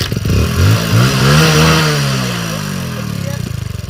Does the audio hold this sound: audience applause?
no